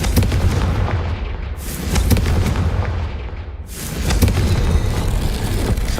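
In Hogwarts Legacy, a Confringo fire spell erupts in loud, rumbling blasts amid heavy combat noise. There is a sharp burst near the start and another swelling explosion about two-thirds of the way through.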